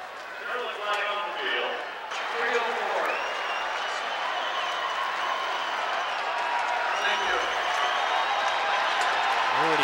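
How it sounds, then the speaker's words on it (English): Sparse football stadium crowd cheering and applauding at a Stanford vs. Arizona game, a steady broad roar of clapping and shouting that swells after the first two seconds and holds loud to the end, with voices mixed in. "this crowd, which is basically non-existent at this point, is making more noise now than they have at any point in the game"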